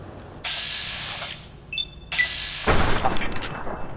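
Gunfire in the video game Fallout New Vegas: sustained crackling bursts of shots, then a louder booming blast toward the end, with no talking.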